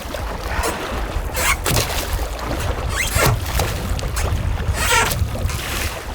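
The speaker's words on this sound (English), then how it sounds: "Feels like a nice rowing workout for sure." Oars row a dinghy in a repeating rhythm of dips and splashes, with water sloshing close by under steady wind noise on the microphone.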